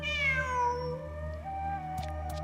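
A cat meows in the Genshin Impact video game, one drawn-out, slightly falling meow over a steady low background hum, followed by a couple of faint clicks. Nobody speaks.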